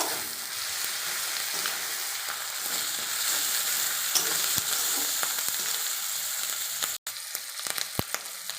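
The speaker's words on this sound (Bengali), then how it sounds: "এবার আমি দেবো আদা বাটা, ভালো করে ভেজে নেব।" Ginger paste fries in a pan for soybean curry, a loud bright sizzle with frequent scraping stirs and clacks of the spatula, a short gap near the end.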